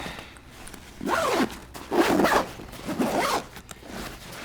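A zipper is drawn closed on an Empire F6 XLR duffle pack in three quick rasping pulls with short pauses between, close and fairly quiet.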